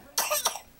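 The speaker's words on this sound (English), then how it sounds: "Ah, yucky cough." A child coughs twice in quick succession, close and fairly loud, with a rough, breathy burst each time and quiet before and after.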